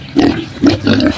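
Pigs on a backyard hog farm squeal in three loud bursts close by, harsh and shrill, with short pauses between.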